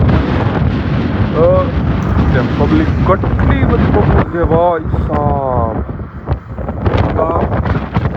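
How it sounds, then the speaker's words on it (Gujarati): Strong wind at the seaside at Rozi port in Jamnagar buffets the microphone in a continuous loud roar, while someone talks over it throughout. "બહાર એટલો બધો પવન છે"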